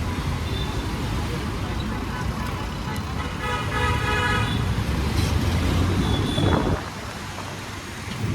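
Busy road traffic rumbles continuously, with large vehicles passing and horns tooting repeatedly, heard from a motorcycle, voices faintly mixed in.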